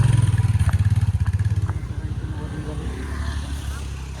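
A scooter engine idling nearby on a mountain trek approach, a throbbing low pulse that is loud and close at first, then settles into a rougher, fainter rumble as people talk over it.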